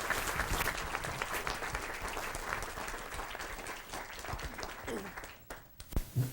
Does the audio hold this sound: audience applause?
yes